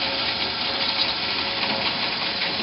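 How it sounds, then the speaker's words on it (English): A drill press boring a 5/16 hole into a metal frame, a steady continuous whirring grind at even loudness throughout, with no talking. "So I'll turn on the drill press"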